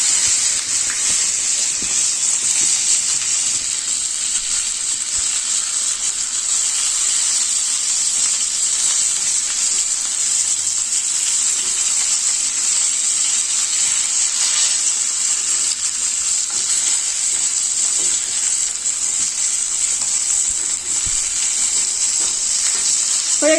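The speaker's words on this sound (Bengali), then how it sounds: "আমার মাছটা প্রায় ভাজা হয়ে গেছে," Rohu fish frying in hot oil in a kadai for a Bengali dal dish, a steady loud bright sizzle close up that runs unbroken throughout with faint occasional crackles.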